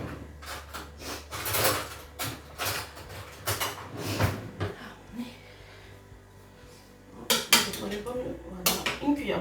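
A spoon stirs potatoes in a cooking pot with irregular metallic clinks and scrapes in close bursts. Activity pauses briefly midway, then the clattering strokes resume.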